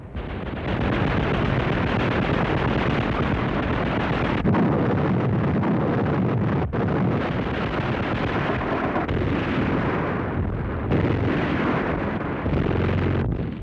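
Continuous barrage of German tank guns firing in wartime combat, dense overlapping booms and blasts filling the whole stretch at high, steady loudness with no pauses.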